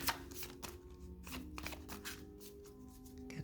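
Oracle cards are shuffled and drawn in a steady series of crisp riffling, slapping bursts, close and fairly loud, with no voice over them.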